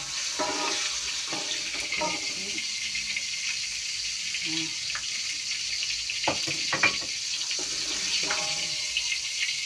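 Hot oil sizzles and crackles steadily as crackers fry in a pan, with light stirring clinks and brief murmurs of talk.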